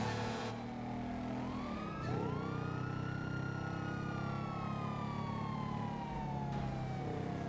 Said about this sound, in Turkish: Başka sirenler de var